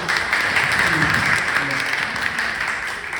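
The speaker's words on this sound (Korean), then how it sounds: "박수 한번" An audience at a book talk breaks into applause, a fairly loud, even wash of clapping that carries on through the moment with faint voices mixed in.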